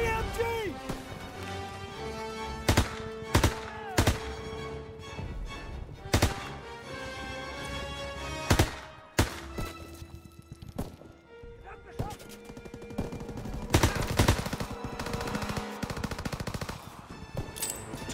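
Machine gun fire in a D-Day video game comes in sharp repeated bursts mixed with single shots and loud explosions, heard over game music and shouted voices.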